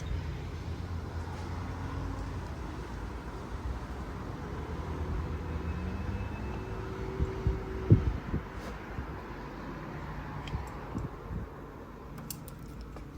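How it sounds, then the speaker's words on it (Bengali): Strong wind blows outside an open house door, a steady low roaring rumble that swells slightly in gusts, heard alone without any talk. "দেখুন এটা হাওয়ার সাউন্ড আমি কিন্তু কোনো এক্সট্রা কোনো সাউন্ড দেইনি"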